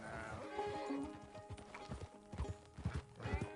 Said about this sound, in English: That's a nice looking horse.